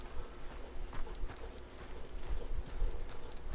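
Horse hooves clip-clop in a steady, fairly close rhythm while riding in the Red Dead Redemption 2 video game, with background game ambience and no talk.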